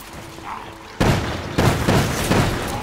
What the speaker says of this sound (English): Grenades everywhere.